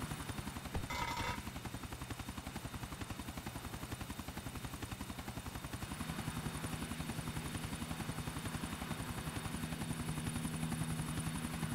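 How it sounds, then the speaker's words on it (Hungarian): Helicopter in the video game GTA IV flying over a city, a steady rotor chop sounding throughout at a constant, moderately loud level, with a brief burst of gunfire-like noise near the start. "Leszállok a város közepén egy helikopterrel."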